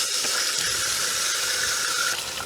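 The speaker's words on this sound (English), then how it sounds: "Now, let's turn the water on and see if we got a leak." Water rushes steadily through a newly connected drip irrigation line for a hidden foundation waterer, a constant close hiss with no pauses.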